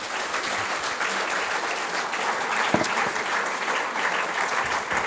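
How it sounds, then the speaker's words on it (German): Steady applause from a seated audience at a German reading event, an even, moderately distant wash of clapping hands that holds for several seconds. "Applaus"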